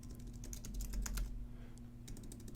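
Quick clicking keystrokes on a computer keyboard, tapped in short bursts with a brief pause near the middle, close up over a steady low background hum.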